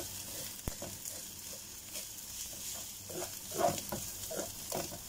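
Corned beef frying in a pan, a soft steady sizzle with intermittent scraping and stirring knocks from a utensil, one sharp tap early on, close and moderately quiet.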